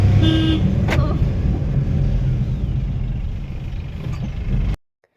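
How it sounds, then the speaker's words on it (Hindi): A car engine rumbles steadily at close range as the vehicle pulls away and drives, a brief horn toot near the start, then the sound cuts off abruptly. "अब हमारी गाड़ी स्टार्ट हो गई"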